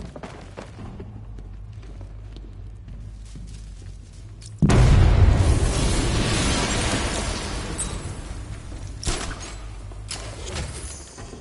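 A loud deep detonation in a Batman game bursts in abruptly after a quiet stretch, booming then slowly decaying into rumbling debris and noise.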